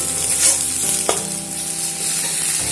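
Spices and chili powder frying in a pan, a steady close sizzle with stirring scrapes throughout and one brief clink, loud and with no talking.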